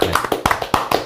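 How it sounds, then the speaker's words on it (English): A small group claps briefly during a live lodge livestream, about half a dozen close, sharp claps in quick, uneven succession lasting roughly a second. "Unexpected round of applause there for John O'Connor"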